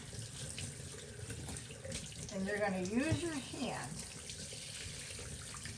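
Running tap water pours over a dog's head and ear during a bath, a steady splashing wash under a woman's calm instructions, swelling slightly midway.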